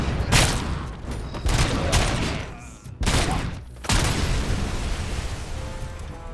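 Loud bursts of gunfire and explosions from the RoboCop video game, several heavy booms and rapid volleys following one another closely, with brief lulls between blasts.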